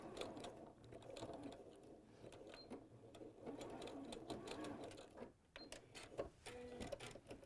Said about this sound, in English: there's no issue sewing through this webbing